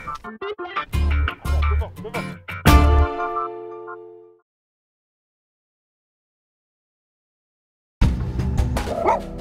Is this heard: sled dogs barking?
yes